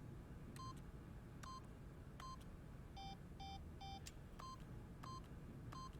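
Sparse, evenly spaced electronic beeps from The Stanley Parable video game sound in a steady rhythm, with a brief run of lower-pitched tones midway, soft and faint over a quiet background hiss.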